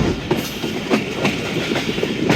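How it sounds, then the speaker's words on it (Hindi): Passenger train rolling through Gujrat railway station in Pakistan, a steady close rumble of carriages with a regular clickety-clack of wheels over rail joints throughout. "गुजरात रेलवे स्टेशन से ट्रेन हमारी थ्रू पास हो रही है"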